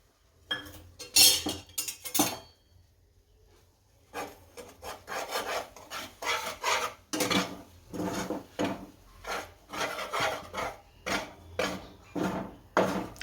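Flour roasting in a pan after asafoetida is heated, stirred with repeated scraping and rasping strokes in a steady rhythm, close and fairly loud, with a short pause early on and no talk.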